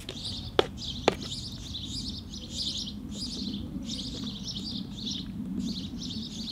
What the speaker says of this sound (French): Comme les chants d'oiseaux qui emplissent le silence qui les écoute.